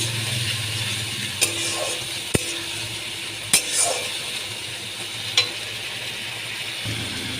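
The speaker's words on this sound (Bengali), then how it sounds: "তেলে দিয়ে দিয়েছি আর মশলাগুলো আমি ভালো করে কষিয়ে নিচ্ছি" Spices sautéing in hot oil for a fasha fish curry, a steady sizzle broken by a few sharp clinks of a utensil striking the pan.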